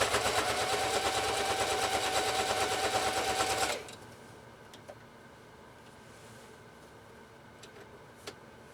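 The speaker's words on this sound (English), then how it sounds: "Let's zip down this and see how this 44S does on this one-off with 3 layers of genuine cowhide" A Singer 44S sewing machine stitches through three layers of genuine cowhide with a rapid, loud mechanical clatter that runs for about four seconds, then stops abruptly, leaving a quiet room with a few faint clicks.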